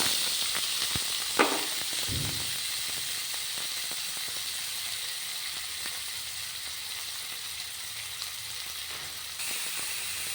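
Onions sizzling in a hot pan as they sauté for a bitter gourd kuzhambu, a continuous close hiss with a brief louder burst near the start, then a steady frying sizzle.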